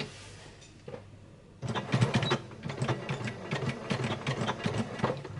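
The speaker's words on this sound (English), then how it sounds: "And I'm going to reverse my stitches at both the start and at the end." A domestic sewing machine stitches fabric forward and in reverse, starting after a quiet pause with a steady, fast mechanical whir and clatter that varies slightly as the stitching direction changes, close and alone.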